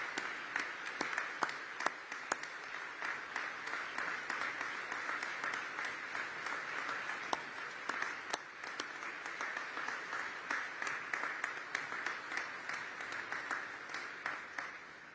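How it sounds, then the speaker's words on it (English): A live show audience on its feet in a standing ovation, steady dense clapping that carries on evenly at a moderate distance with a few sharper individual claps standing out, no talking over it. "Standing ovation."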